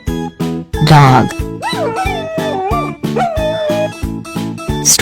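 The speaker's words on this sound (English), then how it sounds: "Dog." A dog barks, yips and howls in loud, drawn-out calls, heard over a rhythmic music track.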